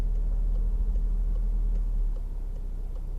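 A car engine idles low at the clutch biting point, a deep steady rumble that holds evenly, then drops slightly in level near the end, heard close from inside the vehicle without talk.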